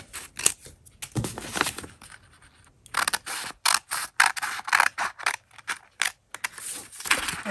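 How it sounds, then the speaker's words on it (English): Scissors cut out a fabric face mask template, a long run of close, loud, rhythmic snipping and crunching strokes with short pauses between bursts and no talking. "Let's cut this out. Let me cut this."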